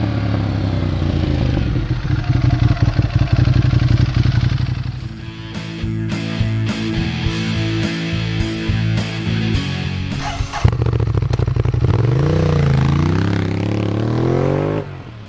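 A Ducati Monster 821 motorcycle engine runs loud and close with a strong droning tone, then revs with rising and falling pitch toward the end. No voices are heard.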